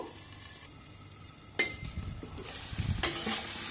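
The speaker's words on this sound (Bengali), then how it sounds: "এবার নুন হলুদ দিয়ে মিশিয়ে নিয়ে ঢাকা দিয়ে দেব" Potatoes are stirred with salt and turmeric in a frying pan: a quiet sizzle, then two sharp metallic clinks of a spatula against the pan, followed by scraping, all close and without speech.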